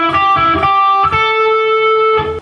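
Electric guitar lick from a rock solo: a few picked notes with slides and a pull-off, then a long sustained ringing note, close and clear with no talk.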